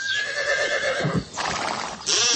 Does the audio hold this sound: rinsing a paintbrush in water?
no